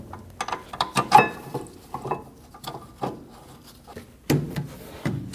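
Caliper bracket bolts being snugged down during a rear brake job on a 2012-2022 Volkswagen Passat, a series of close, sharp metallic ratchet clicks and taps in irregular bursts.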